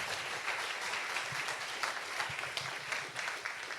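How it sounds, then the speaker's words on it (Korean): A church youth congregation applauds at a worship service, a steady wash of many hands clapping, fairly faint and continuous throughout. "들어가실 때까지 큰 박수로 해주세요"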